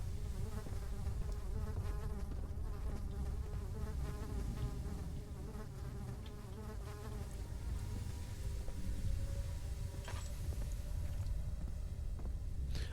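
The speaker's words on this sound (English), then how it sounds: "Why are the flies buzzing?" Flies drone on without pause in the dark horror game Amnesia: The Dark Descent, a wavering close buzz with pulsing harmonics over a low ambient hum, plus a couple of faint clicks near the end.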